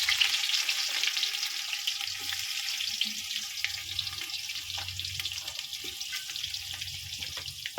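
Dry whole spices, cinnamon, cardamom, cloves and bay leaf, fry in oil on a wood-fired clay stove. They give a steady, close hissing sizzle with scattered pops and a low rumble of the fire, with no talk.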